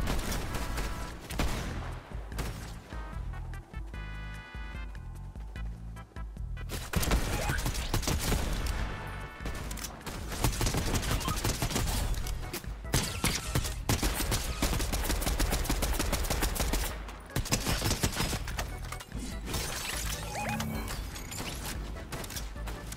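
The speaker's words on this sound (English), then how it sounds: "They're shooting the AI." Gunfire rattles through a Fortnite Zero Builds match, with dense bursts of automatic shots and single cracks continuing almost nonstop for over twenty seconds at close range, under brief spoken comments.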